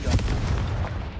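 A Confringo explosion spell goes off in the Hogwarts Legacy video game, a single booming burst with a rumbling low-end tail that fades over about a second.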